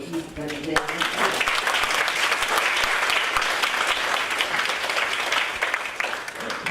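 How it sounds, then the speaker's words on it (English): A voice briefly opens before an audience at an academic awards ceremony breaks into applause, dense steady clapping from many hands that continues at full strength for several seconds. "I will ask you to applaud all these people"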